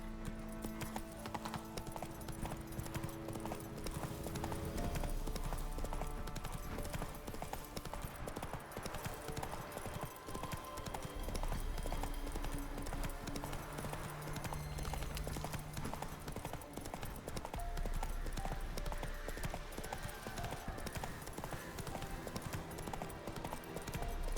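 Horse hooves clip-clopping in a steady trotting rhythm in the video game Witcher 3, continuous and fairly close amid busy game ambience.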